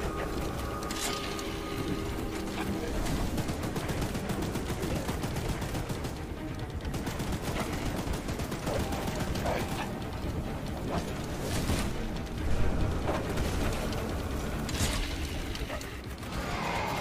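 Gunfire in the video game Choo Choo Charles: rapid repeated shots and mechanical clatter run continuously for many seconds, dense and loud, with occasional heavier bursts and a voice talking over parts of it.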